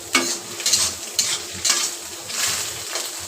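Egg frying in a pan for Maggi egg noodles, stirred with about five or six rhythmic scraping strokes over a steady, close sizzle.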